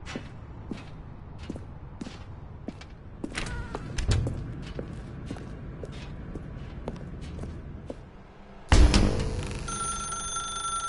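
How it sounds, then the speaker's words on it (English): Telephone ringing in The Stanley Parable video game, a bright electronic ring that cuts in loudly near the end after a stretch of soft, evenly spaced footsteps and a dull thump. "Now pick up the phone, said the bucket"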